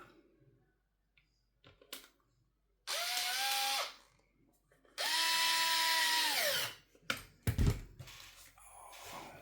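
A cordless power drill drives a screw into an Arrma Infraction 6s RC car in two loud whirring bursts, the second longer, each ramping up and winding down, with small handling clicks and taps between and after.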